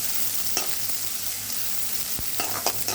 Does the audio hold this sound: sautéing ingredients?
yes